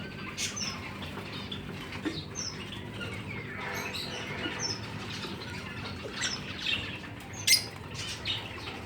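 Nesting lovebirds chirp and twitter busily in a cage, with scattered high calls, light fluttering and scratching over steady background noise.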